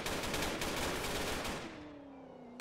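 Rapid gunfire in the Roblox game Cali Shootout, a dense continuous burst of loud shots that cuts off abruptly, leaving a fading ringing tail before another shot starts.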